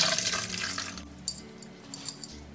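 Water pours out as cooked harusame glass noodles are drained, a steady faint splash that thins into scattered drips and trickles in a quiet kitchen.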